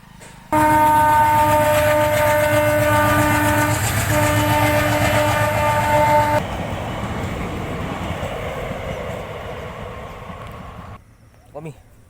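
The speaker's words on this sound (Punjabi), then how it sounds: "ਟ੍ਰੇਨ ਆਉਂਦੀ ਹੈ" A train passes close by, opening with a long loud horn blast over heavy rumbling and clattering wheels, then the horn stops and the rolling clatter carries on before fading away.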